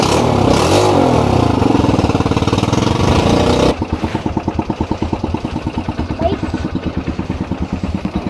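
A loud small ATV engine revving hard, then dropping to a lumpy, rapid idle chug that continues steadily close by, at Yelagiri.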